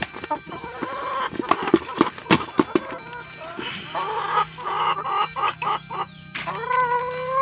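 Chickens cluck and squawk nearby in a busy, irregular chorus, with sharp calls rising over a steady background.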